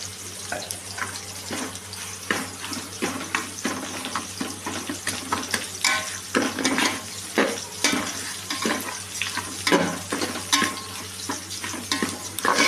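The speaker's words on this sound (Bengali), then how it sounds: "এই ভাজাটার মধ্যে আমি একটু ঘি দিয়ে দিচ্ছি, তাহলে টেস্টটা একটু ভালো হবে।" Dalia and lentils frying in ghee in a pan, a continuous sizzle punctuated by repeated stirring scrapes and knocks at an uneven rhythm, close and fairly loud throughout.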